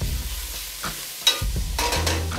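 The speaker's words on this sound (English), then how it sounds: "Just continue moving it around with the carrots." Carrots, onions and garlic sautéing in a pan, with stirring scrapes and bursts of sizzle that come and go, heard up close with brief quieter gaps between the louder movements.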